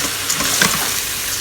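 Rice and ingredients stirred and scraped in a rice cooker pot for yam rice with chicken and mushrooms, giving a soft, steady scraping and sizzle-like rustle with a few light knocks, close by and alone.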